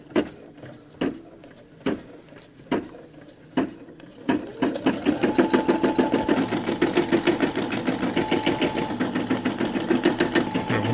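An embroidery machine restarts after a thread break: a few separated single thumps of the needle, then a fast steady mechanical chattering rhythm of stitching that runs loud and close to the end.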